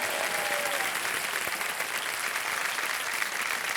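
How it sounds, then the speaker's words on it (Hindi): A studio audience on the KBC game show applauding a contestant, thick continuous clapping, loud and steady throughout, with no voices over it. "तालियां बज जाए इनके लिए बहुत जोर"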